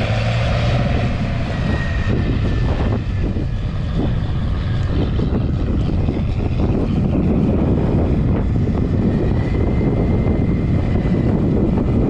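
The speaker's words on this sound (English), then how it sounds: "It's way too windy" Steady, heavy wind buffets the microphone throughout, a continuous roaring rumble with gusty variations and no voices.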